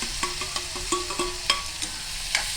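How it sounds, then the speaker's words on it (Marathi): Onion goes into browned garlic frying in oil for a prawn dish, producing a steady close sizzle with repeated quick spatula scrapes and light clicks in an uneven rhythm. "लसूण झालं तांबूस आपण कांदा टाकून घेऊया"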